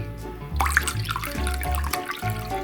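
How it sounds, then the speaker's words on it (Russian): Water poured into a container indoors, a continuous splashing trickle with brief pauses, close and moderately quiet. "Нальем водички."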